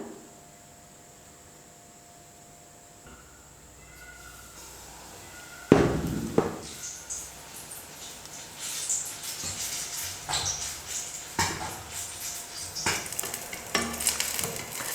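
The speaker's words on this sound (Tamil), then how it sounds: "இப்போ நான் வந்து மாவில் டிப் பண்ணி எண்ணெயில் போட்டுக்கிறேன்." Batter-dipped egg bonda drops into hot oil, bursting into a loud sizzle after a quiet start, then bubbling and crackling steadily with occasional louder spits and pops.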